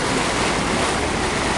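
Heavy rushing floodwater in Karachi's Bhitaiabad after rain and a reported dam break, a loud continuous roar of churning water with no letup and no voices.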